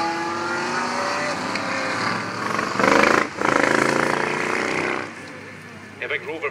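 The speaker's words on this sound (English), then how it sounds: "Big Rover V8 engine with the supercharger bolted on top of it." A Morgan race car with a supercharged Rover V8 roars on a track, the engine drone holding steady, then swelling louder and harsher midway before dropping back down.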